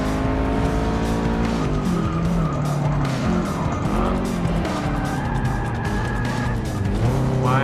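A Japanese all-wheel-drive race car in the video game Forza Motorsport 6 roars through a wide turn, engine whining and shifting pitch as tires squeal and skid, loud and continuous, with other cars close by.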